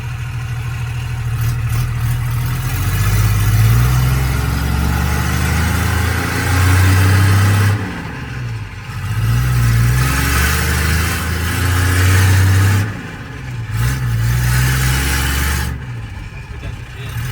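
A second-generation diesel truck with no bed revs hard during a burnout, its deep engine note rising and falling in repeated surges with brief pauses between, loud and close, while people talk nearby.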